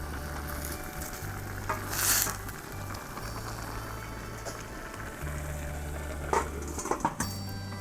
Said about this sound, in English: Let it boil for 2 minutes.